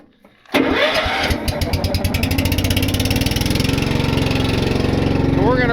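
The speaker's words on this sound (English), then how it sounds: "So we're gonna get our trailer fired up." Engine on a fifth wheel trailer cranks and catches after a quiet start, then settles into a loud, steady, rapidly pulsing idle close by.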